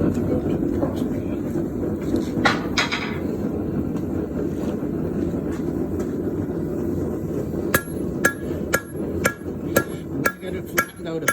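A cross peen hammer strikes a bronze leaf being forged and flattened, first with a dull steady pounding, then with a run of sharp, ringing metallic blows in an uneven rhythm, close and loud, with some wind noise behind.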